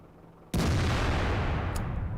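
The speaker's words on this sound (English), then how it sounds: "Shell goes a little bit low and hits the ground" Tank cannon shell striking the ground in a tank video game: a sudden loud, broadband blast that holds as a dense, roaring rumble for nearly two seconds, with no talking.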